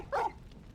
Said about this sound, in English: Good old classic double bark.